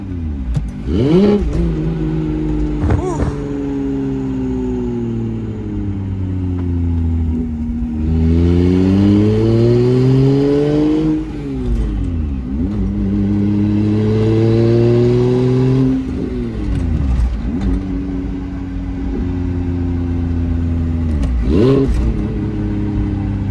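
A BMW 335i with a single turbo revs loudly and close by on a cold day, its engine pitch climbing and falling through several low revs before settling back to idle.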